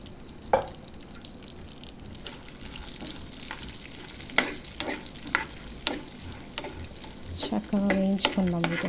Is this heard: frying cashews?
yes